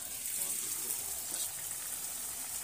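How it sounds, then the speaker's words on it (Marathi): Puris fry in hot oil, a steady soft hiss and sizzle with faint bubbling, close and fairly quiet, no speech. "त्यात पुऱ्या आपण सोडून पाहू"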